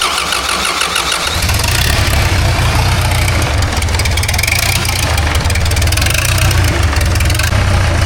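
Diesel engine of an Argo amphibious vehicle cranking briefly, then catching and settling into a loud, steady, close idle.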